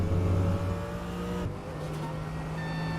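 A race car pulls out of the pits in a GT sim racing game at Chang International circuit, its engine droning steadily with a low harmonic hum, shifting pitch midway, with no talk.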